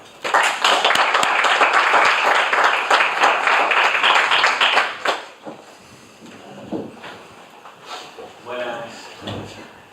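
Loud, dense clapping from a lecture audience fills the first half, then fades out as a single voice begins speaking in a room.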